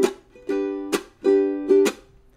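Ukulele strumming played alone and up close, with ringing chords alternating with sharp percussive chucks in a steady rhythm. Each muted chuck cuts the sustained notes short.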